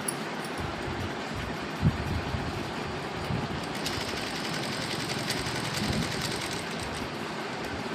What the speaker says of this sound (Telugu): నేను పైనుంచే ఫాల్స్ వేస్తున్నాను నేను ఎలా వేస్తున్నానో అలా మీరు కూడా వేసుకోండి